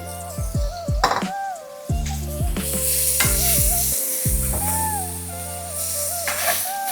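Onions, pimento, garlic and sweet pepper sauté in a hot pan for a Jamaican coconut curry fish, giving a steady sizzle with occasional stirring scrapes beneath prominent background music throughout.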